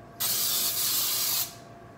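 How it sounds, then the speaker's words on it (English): A single steady burst of baking spray from an aerosol can, misted onto a hand while making brownies, hissing loudly and close for just over a second, then cutting off. "if you have your hand and then you spray your hand lightly, it should go in all the right places"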